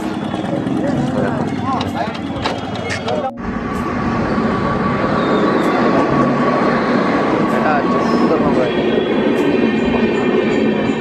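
A train rumbles past close by, its loud steady roar and clatter lasting throughout, apparently heard from a roadside while cycling, with occasional high squeals and outdoor noise mixed in.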